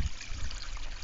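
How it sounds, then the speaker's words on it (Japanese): Water runs over stones in an aquaponics biotope, giving a soft, steady trickle and gentle splash that stays close and even for a brief moment with no voices. "じゃあ水を流して確認してみましょう。"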